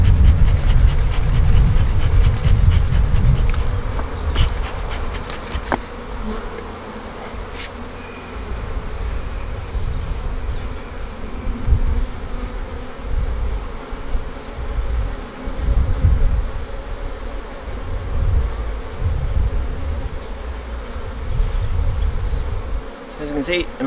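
Agitated honeybees buzz loudly and steadily around an open hive during queen-rearing grafting work, a dense close drone with swelling pulses throughout and no talk heard.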